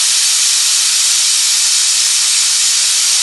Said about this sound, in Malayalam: അങ്ങനെ നമ്മുടെ കുക്കറിൻ്റെ വിളി വന്നിട്ടുണ്ട്.